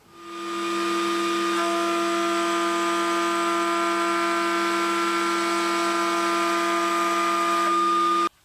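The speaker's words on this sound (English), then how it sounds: "Now it is a small router bit, so chances are that kerf is going to be plugged with sawdust." A small router bit cuts a straight groove in wood. The motor spins up quickly into a steady, loud, tonal whine that holds for several seconds, then cuts off abruptly.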